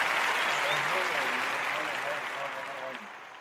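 Sustained hand clapping, a dense wash of many claps like applause, stays loud and steady and then fades slightly toward the end.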